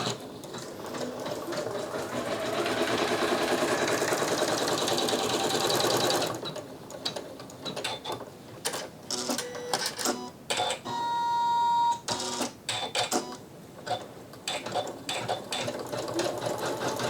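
A Janome Skyline S9 sewing machine runs an embroidery design, its fast, steady mechanical whirr continuing for several seconds before breaking into stop-start bursts of stitching and short beeps.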